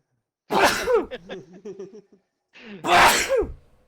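Two loud, close sneezes separated by a short pause, with a bit of muttering between them.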